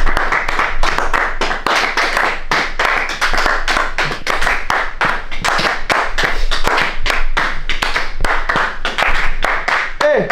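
Colleagues in an open-plan office clap together in a fast, loud, steady rhythm that runs unbroken for about ten seconds, close by and filling the room.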